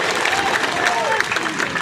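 A crowd at a political rally in Chandla claps loudly and steadily, a dense patter of many hands with scattered cheers and voices mixed in, sustained throughout.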